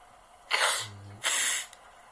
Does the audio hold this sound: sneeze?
yes